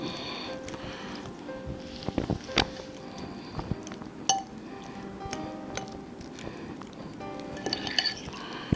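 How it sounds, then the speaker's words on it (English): A fork mashes avocado in a bowl for vegan avocado potato salad, giving soft squishy presses broken by sharp clinks of metal on the dish, scattered across a quiet kitchen with no talking. "you just mash it up until it basically turns into very similar to the consistency of a guacamole"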